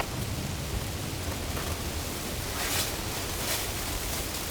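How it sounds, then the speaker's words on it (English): Strong stormy wind roars outside a tent pitched on ice, a continuous broadband rush with gusts swelling partway through, loud and unbroken with no voices. "It's a wee bit windy out there."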